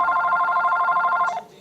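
An electronic telephone ringer warbles in one continuous ring of just over a second, loud and close, then cuts off abruptly with no voices.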